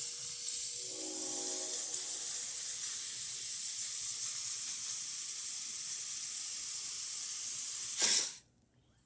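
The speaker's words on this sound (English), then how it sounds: "Let's test the steamer." A Breville Oracle Touch espresso machine steam wand gives a steady, loud hiss for several seconds, then cuts off abruptly into near silence.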